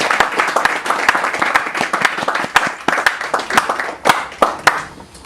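A room of people applauds themselves at an evening gathering, steady dense clapping with sharp individual claps standing out, fairly close and loud throughout.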